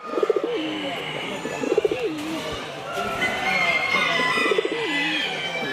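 Racing pigeons at a national show coo in repeated soft, throaty rolling phrases close by, with some speech and background room noise.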